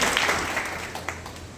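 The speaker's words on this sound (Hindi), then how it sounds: "बजाओ ताली" A short burst of audience clapping at a live Indian event, loud and close at the start, then thinning out and trailing off over under two seconds, with a few scattered final claps.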